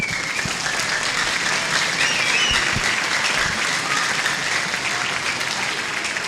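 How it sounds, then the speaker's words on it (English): Steady, dense applause from a large audience at a school band concert fills the room, continuous and even throughout with no pauses. "please give a warm round of applause to the stars of tonight, our students."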